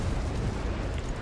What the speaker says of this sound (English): That's a big explosion.